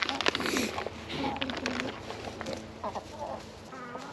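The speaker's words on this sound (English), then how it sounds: "Happy birds." Chickens in their new DIY winter housing give scattered soft clucks and calls, close by, under a person talking.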